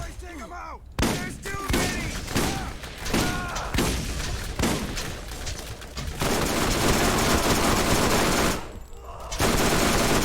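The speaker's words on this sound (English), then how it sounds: "This SMG has 105 bullets in the clip" Submachine gun fire in the video game Borderlands: rapid, sustained automatic bursts, close and loud, broken by short pauses, with a voice briefly heard at the start.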